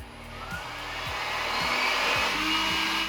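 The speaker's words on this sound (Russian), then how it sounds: "Мотор очень громкий, работает по принципу бытового пылесоса." A PhoReal FR-S60 window-cleaning robot's suction motor whines loudly like a household vacuum, a steady tone broken by regular soft clicks about every half second.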